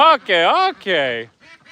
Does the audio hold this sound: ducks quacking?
yes